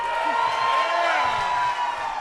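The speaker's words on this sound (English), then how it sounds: "please join me in a rousing round of applause for our Pennsylvania Attorney General-elect, Dave Sunday" A crowd cheers and applauds at an election-night victory event for Pennsylvania's Attorney General-elect, a steady roar of clapping and whoops at even loudness throughout, with voices mixed into the noise.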